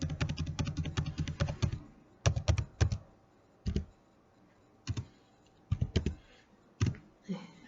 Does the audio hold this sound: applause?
no